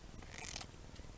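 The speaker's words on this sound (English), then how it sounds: "I'm just going to use my scissors" Scissors snip through a pink leaf in one short, crisp cut, close and quiet against a soft hiss.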